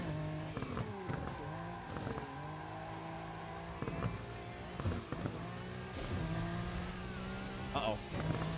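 Car in the Burnout Paradise racing game: a steady engine drone with repeated bursts of tire squeal and skidding as the handbrake is pulled, several sharp screeches and impacts rising above the engine.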